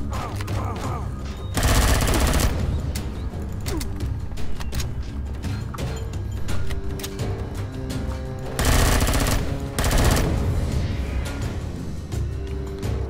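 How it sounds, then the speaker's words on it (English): A turret in Empyrion firing, with loud mechanical rattling and clanking punctuated by two dense bursts of rapid automatic fire, close and harsh, over steady machine noise. "that was my turret trying to shoot but failing"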